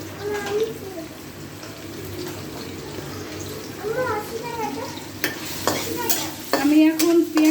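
Chopped onion and green chilli sizzle in hot oil while being stirred, a close crackling fry with scraping strokes and pan knocks, getting louder toward the end, with faint voices at times.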